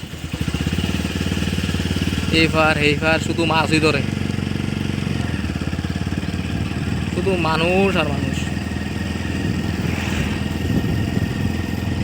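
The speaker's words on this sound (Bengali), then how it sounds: "এই দেখো শুধু বাইক আর বাইক" Many motorcycles idle and run around a crowded fishing gathering in Bangladesh, a steady, continuous engine drone filling the whole stretch while someone talks over it.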